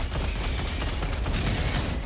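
Automated turrets in Helldivers 2 pour continuous rapid fire at an enemy, a dense, loud, unbroken rattle of shots.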